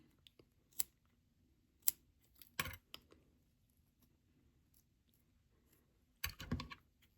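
Scissors trimming a necklace cord: a few sharp, isolated snips spaced apart in a quiet room, with a small cluster of quick cuts near the end.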